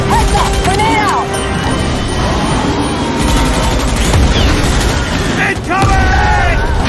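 Loud, continuous combat in a video game with grenade booms and rattling gunfire, a steady dense roar with sharp impacts and whistling tones, while voices shout over it.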